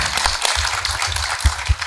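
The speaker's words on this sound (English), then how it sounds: "Again, let's give him a round of applause as well." Conference audience at a superintendent symposium applauds steadily, dense clapping filling the room with a few louder nearby claps standing out.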